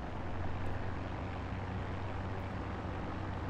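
A P-51D Mustang's piston engine in the DCS flight simulator game hums steadily as the throttle is raised for taxi, a dense, continuous drone with a low propeller throb, even and unbroken.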